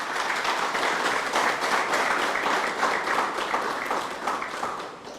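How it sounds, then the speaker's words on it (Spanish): A crowd at a book presentation ceremony gives dense, sustained applause. The many hands blend into a steady roar that holds level for about five seconds before it starts to taper at the end, with no speech over it. "Así que les pido un fuerte aplauso para los tres."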